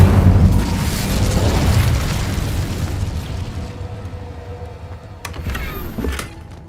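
An Incendio fire spell bursts in Hogwarts Legacy, opening with a loud, low, rumbling blast that slowly fades into a roaring crackle, followed by a brief sharp flare near the end. No voices are heard.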